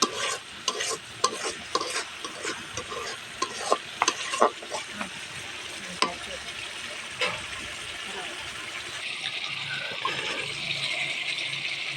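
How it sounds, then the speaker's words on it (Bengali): A spice paste of ground onion, cumin and garlic is stirred and fried in a pan, giving steady sizzling with repeated scraping strokes of a utensil. Both sounds stay close and fairly loud throughout, and a voice talks over them in places. "আমাদের মশলাটা ভালোভাবে কষানো হয়ে গেছে"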